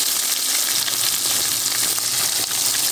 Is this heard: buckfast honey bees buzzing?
no